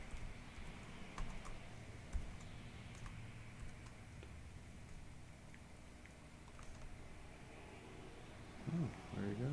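Someone types a password on a computer keyboard, giving quick, irregular clicks and taps up close, with a faint voice near the end.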